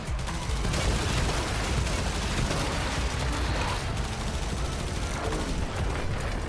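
Arc gun firing in the Warframe video game, a sustained, dense barrage of crackling energy shots under busy battle noise, steady and moderately loud throughout.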